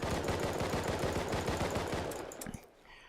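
Rapid automatic gunfire from a rifle in the survival video game Rust, a steady burst of roughly eighteen evenly spaced loud shots that stops abruptly, leaving a brief fading tail.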